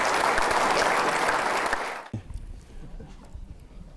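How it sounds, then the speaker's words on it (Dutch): Audience applause at a Dutch royal honours ceremony in Gemert-Bakel, dense and loud for about two seconds before stopping abruptly, leaving quieter room noise with a few scattered claps. "Dat is een applaus waard."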